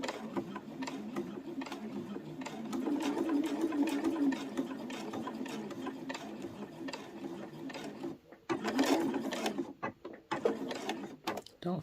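A sewing machine stitches around the edge of a fabric layer cake tray in a steady, busy mechanical whir, running continuously before briefly stopping and restarting for a few short bursts near the end.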